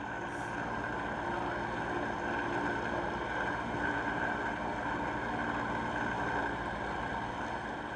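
A boat engine runs hard at 3,300 RPM with about 910 pounds of thrust, dragging a Delta anchor through the seabed. It makes a steady, loud drone with wind rushing over the microphone, and no break across the whole stretch.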